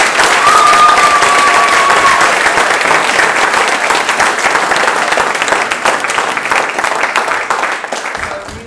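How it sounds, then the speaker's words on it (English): Loud, dense audience applause for a group of children after their performance, a steady wash of many hands clapping throughout, easing slightly toward the end, with a brief thin whistle-like tone near the start. "Let's give them another clap."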